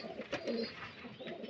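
Pigeons in a loft give soft low coos, a brief murmuring burble followed by another faint call, close but quiet against a still background.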